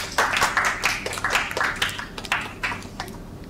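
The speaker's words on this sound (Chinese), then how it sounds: "拍手" Students in a classroom clap their hands in a loose, uneven patter of separate claps, moderately close and not very loud, with a few quiet voices around.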